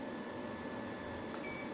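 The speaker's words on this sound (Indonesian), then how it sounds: "Buzzer yang berbunyi ini prioritas" A buzzer sounds on a 5KW smart power inverter panel set, a faint steady tone under a loud electrical hum, with a brief sharper beep near the end.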